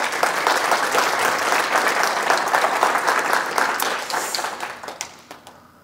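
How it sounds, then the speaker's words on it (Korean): A church audience at a family retreat claps loudly for its young adults, dense and sustained applause filling the room before thinning into scattered final claps. "우리 청년 대학부들 젊은이들을 위해서 박수 한번 쳐줍시다."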